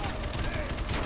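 Dense, continuous gunfire rattles through a Call of Duty Cold War campaign battle, rapid overlapping shots forming a loud, steady fusillade with voices mixed in beneath.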